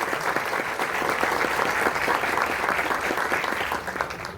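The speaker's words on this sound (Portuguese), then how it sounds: "Nosso aplauso mais uma vez e a nossa gratidão." Sustained audience applause in an indoor school venue at an environmental week opening, a dense, steady wash of many hands clapping at even loudness throughout, with no speech over it.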